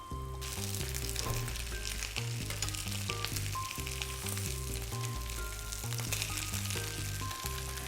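Austrian schnitzel frying in a pan, a steady crackling sizzle that runs throughout under a continuous bed of background music, with no voices.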